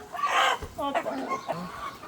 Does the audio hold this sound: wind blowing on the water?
no